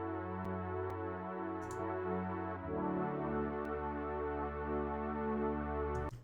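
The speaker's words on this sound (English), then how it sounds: "we're routing the LFO to the fine tuning, which will sound like this." A sustained Serum synth pad with an LFO routed to fine tune, giving a wavering, detuned shimmer as held chords shift, steady and alone with faint clicks between changes.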